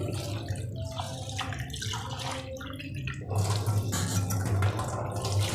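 Water splashes and trickles continuously as lentils are rinsed in a bowl, with a louder swishing surge partway through. No voices.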